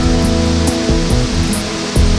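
A natural waterfall in Costa Rica roars close and loud, a steady dense rush of falling water with no voices.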